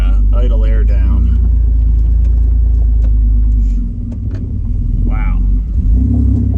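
A car engine idles after warming up, producing a loud, steady low rumble that dips briefly partway through, as someone talks over it close by.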